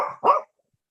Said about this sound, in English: It's probably a sled dog.